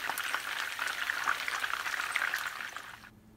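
Steady crackling sizzle of food frying in a pan of hot oil for savoury rice, with dense bubbling pops that cut off abruptly near the end; no voices.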